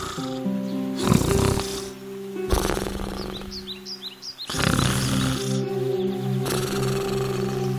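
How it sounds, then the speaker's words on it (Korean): Cartoon wolf snoring while asleep under a tree in a big yard, heard as slow, loud rhythmic snore breaths with soft music and faint chirps in the background. "늑대는 그곳 나무 아래 누워 코를 골며 잠을 자기 시작했어요"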